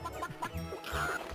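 Chickens cluck in short, clipped bursts in the video game Synthetic Man, several quick clucks in a row at moderate volume.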